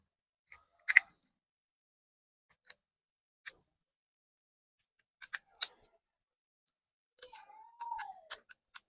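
Screw being tightened on a homemade electrical junction box, a handful of sparse sharp clicks and ticks with a short squeaky scrape near the end, close and quiet against silence.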